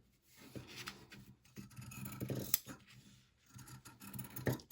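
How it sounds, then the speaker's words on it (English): Scissors cutting fabric along a traced line for a DIY emoji pillow, a series of quiet close snips and rasping blade strokes separated by short pauses. "when we're cutting, we are going to bring the scissors all the way down to a close."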